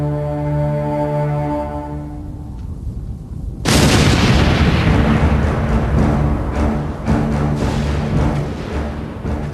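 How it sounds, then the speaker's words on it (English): Big Bertha, the giant German siege cannon firing shells at forts, lets out one huge blast partway through, then a long rolling roar and rumble that stays loud over a background of music. "Big Bertha, the world's largest cannon."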